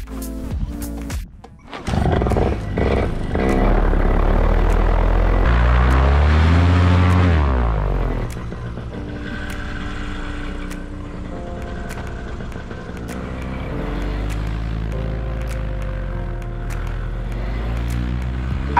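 Paramotor engine and propeller roaring during takeoff over desert dunes, a loud sustained drone that rises in pitch, swells strongly, then settles into a steady steady hum after a brief dropout near the start.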